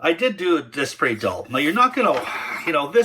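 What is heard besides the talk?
No everyday noise stands out behind the speech.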